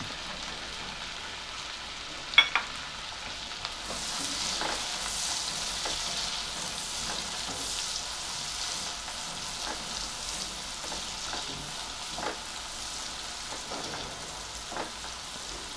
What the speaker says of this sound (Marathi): आता हा जो चिरलेला कांदा होता तो घालते.